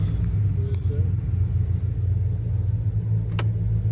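A 2010 Dodge Ram 1500 Laramie pickup idles after a cold start, a steady low rumble running throughout with no clear rev, while people talk faintly nearby.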